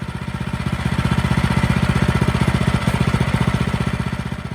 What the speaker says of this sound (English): I was comfortable with how the engine was idling and not allowing the clutch to engage